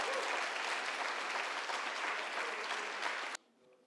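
A church congregation applauds in a continuous, dense roar of many hands that holds steady and then cuts off abruptly near the end, leaving quiet room tone.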